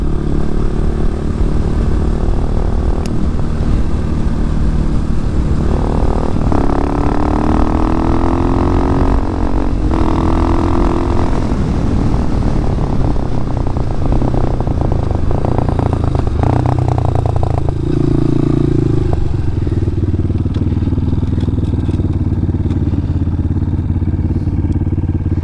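A motorcycle riding on the road, its engine droning loud and steady with rising and falling revs and constant wind rush throughout.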